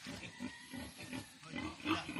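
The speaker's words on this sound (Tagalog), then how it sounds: "Baboy yun, oh. Panibago na. Ang ingay. Ang inahin." A sow on a farm grunts in low, rough, repeated bursts, fairly faint against outdoor background noise, the grunts rising in loudness toward the end.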